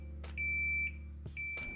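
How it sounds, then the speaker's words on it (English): Samsung refrigerator in forced defrost mode beeping, two clear electronic tones in quick succession over a low steady hum. "you're going to hear a beeping sound that sounds like this."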